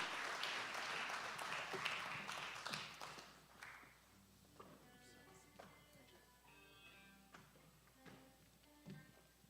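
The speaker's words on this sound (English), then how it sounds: "a round of applause to assist him coming to the podium" An audience at a formal farewell ceremony applauds as a guest walks to the podium, a moderate wash of clapping that slowly thins out and fades, heard from within the hall.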